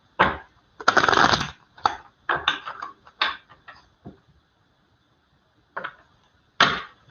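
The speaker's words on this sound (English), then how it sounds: "I'm going to shuffle." Tarot cards riffle and snap together in several quick bursts, close by, with pauses between shuffles and a final flurry.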